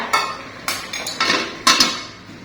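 A metal lid clatters onto a boiling pot of vegetables and bean curry, four or five quick bright clanks and rattles close by, with no voices.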